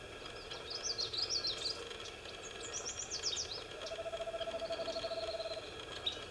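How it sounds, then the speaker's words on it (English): Owls trill in a played back recording, quick high warbling chirps and a long vibrating trill over a faint hiss, fairly quiet and distant with no talk. "I didn't know that owls made that noise."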